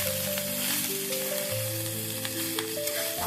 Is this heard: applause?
no